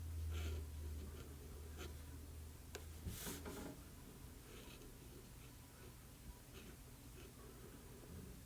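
Lamy Aion fountain pen with a fine nib scratching across paper, faint soft strokes in short bursts over quiet room hiss, heard close up.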